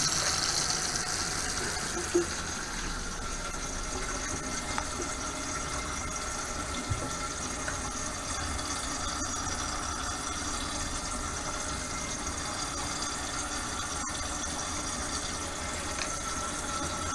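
Cold water runs steadily from a kitchen sink tap after a new garbage disposal install, a constant even rush and hiss with no pauses, close and moderately loud, with no voices.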